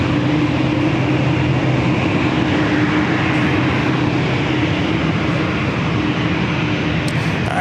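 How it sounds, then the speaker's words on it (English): A Japan Air Boeing 787-9 Dreamliner taking off from runway 27 at San Diego airport produces a dense, loud, constant jet roar that stays steady throughout. "Cleared for takeoff, heading back to Tokyo Narita, the 787-9 Dreamliner."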